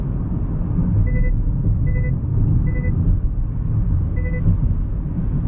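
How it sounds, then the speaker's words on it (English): Four short high electronic beeps chime at even intervals, a lane departure warning in a 2020 Kia Optima, over the steady low rumble of the moving car's cabin. "Sorry, that's lane departure warning."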